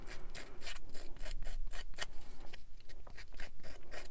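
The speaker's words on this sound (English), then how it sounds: "You can just use your scissors that are already there." Scissor blades scraping and roughing up cardstock edges in quick, repeated close strokes, faint and dry, with no talking.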